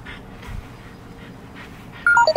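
A French Bulldog stud dog pants in quick, soft breathy puffs close by, with a short sharp high squeak breaking in near the end.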